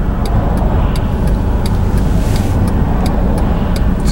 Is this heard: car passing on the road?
yes